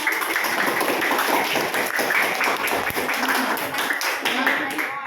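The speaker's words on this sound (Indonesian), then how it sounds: "Silakan tepuk tangan yang sudah mempresentasikan." Classroom clapping for a group of students who just finished presenting, a steady dense patter of many hands filling the room with voices mixed in throughout.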